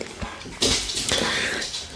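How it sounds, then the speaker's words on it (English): A dog whimpers and yips faintly nearby in a quiet room, a few short high whines and soft breaths over about two seconds. "So I think I hear my dog."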